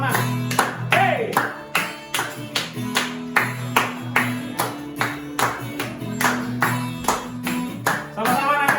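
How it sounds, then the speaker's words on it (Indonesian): A group at a Sunday school church service claps hands in a steady, even beat, each clap crisp and close, along with upbeat music and singing throughout. "Tepuk tangan yuk sama-sama."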